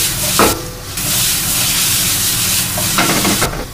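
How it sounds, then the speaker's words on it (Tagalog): Onions sautéing in a hot pan give a loud, continuous, close sizzle, with brief scraping bursts from stirring near the start and end. No one speaks. "Medyo na-brown na yung ating sibuyas"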